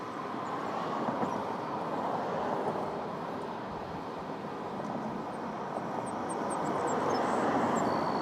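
An Airbus A330 jet departs from Toronto Pearson airport, its engines a broad, steady distant roar that swells slightly toward the end, with no talk over it.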